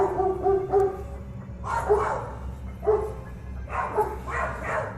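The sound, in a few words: husky dog barking at a mountain lion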